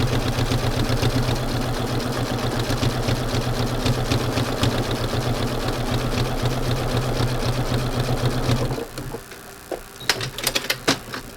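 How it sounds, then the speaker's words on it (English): A domestic sewing machine runs zigzag stitching on a beach landscape quilt, a loud, steady, rapid stitching rattle lasting about eight seconds before it stops, followed by a few faint clicks. "zigzag stitching"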